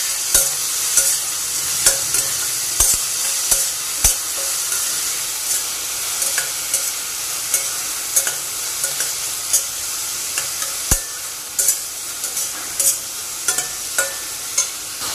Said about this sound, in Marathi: कांदा परतून घेऊयात।